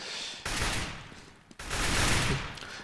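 Broadband bursts of game gunfire from a Counter-Strike: Global Offensive match on Mirage or Cache, two sustained volleys filling the clip, loud and continuous with no talk over them.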